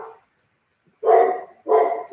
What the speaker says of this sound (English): I'm about to send my dog to bed.